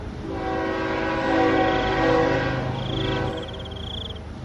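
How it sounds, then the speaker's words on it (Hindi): A train approaches along a railway track with a loud, steady rumble and a long, sustained horn blast that swells and holds, followed by a higher whistle tone near the end. "अचानक रेल को आता देख"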